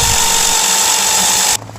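A Harbor Freight battery-powered chainsaw runs at a steady, loud, whining pitch close by, then its motor cuts off abruptly near the end, leaving a quieter background.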